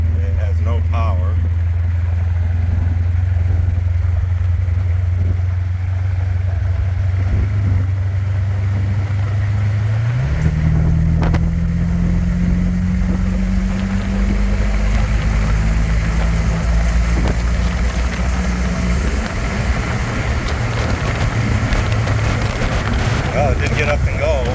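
A car engine fitted with newly installed twin turbos drones steadily at a low, loud pitch, then its tone lifts gradually partway through and holds over continuous wind rumble.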